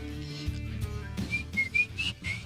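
A person whistles a short tune, a few rising and falling high notes in quick succession, close and clear over a low background hum, with no talking.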